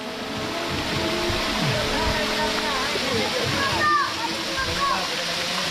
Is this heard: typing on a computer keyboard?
no